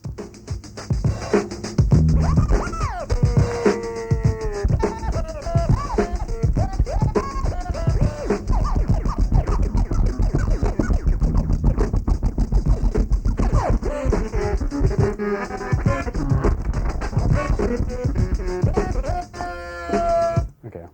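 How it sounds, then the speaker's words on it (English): A DJ performs the tweet scratch on a turntable, pushing the record platter by hand so it works like percussion: a busy run of short, chirping scratches over a steady beat, loud and continuous for about twenty seconds. "So that's the tweet scratch."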